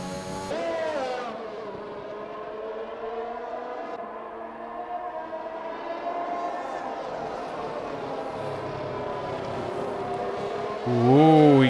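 A McLaren and an Aston Martin race closely in a Bahrain round of a sim-racing league, their engines howling with steady high revs and gear-change pitch sweeps, ending in a louder burst of acceleration.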